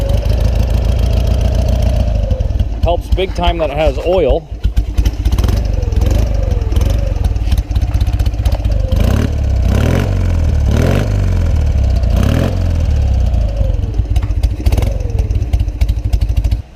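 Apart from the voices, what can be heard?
vintage BMW motorcycle engine running after kick start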